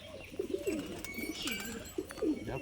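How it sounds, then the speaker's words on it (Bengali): A biscuit-coloured female fancy pigeon coos in a few soft, rolling phrases, close by, with no talking over it. "এটা একটা মাদি পায়রা"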